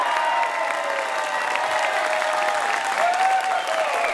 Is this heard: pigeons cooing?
no